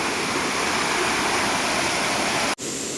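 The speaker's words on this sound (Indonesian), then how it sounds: "Leuwi itu sungai ya, sungai cepet gitu kali ya maksudnya." Loud, continuous roar of a fast-flowing river rushing near a waterfall at Leuwi Cepet in Leuwi Hejo, Sentul, steady throughout and close by, briefly cutting out near the end.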